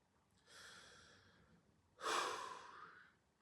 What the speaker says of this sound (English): Clear the breath.